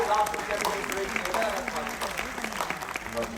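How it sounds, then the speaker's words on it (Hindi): An Indian comedy-show audience applauds as a laughter-challenge comedian is called to the stage, a dense, continuous patter of many hands with some crowd noise underneath. "जोरदार तालियों"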